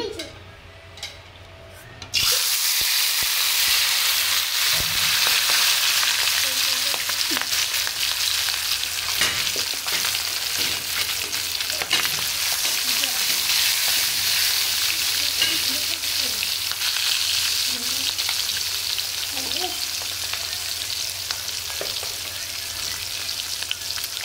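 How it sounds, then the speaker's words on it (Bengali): Fish sizzles in hot oil in a pan on the stove, a mix of fish for a curry; a loud, steady, dense frying hiss starts after a short quiet moment and continues unbroken. "এখন আমি মাছ চুলাই দিয়ে দিতেছি। এখানে আমি তেল বসাই দিছি।"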